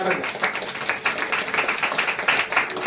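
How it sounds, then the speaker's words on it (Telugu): A church congregation claps together for God, a dense, steady patter of many hands filling the room at moderate volume, sustained throughout without a pause. "చప్పట్లు కొడదాం దేవునికి మేము."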